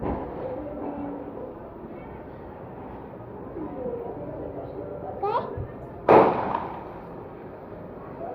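Diwali firecrackers going off outdoors during a family celebration: a short crackle near 5.3 s, then one loud sharp bang at 6 s over a steady background hum, with children and adults talking nearby.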